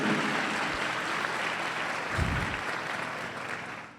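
A church congregation at a sermon claps together in praise of God, a loud, sustained burst of applause with a few heavier low thumps partway through, fading slightly toward the end.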